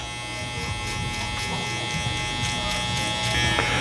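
Electric hair clipper buzzing steadily up close through a burst fade haircut, a continuous hum with faint speech underneath.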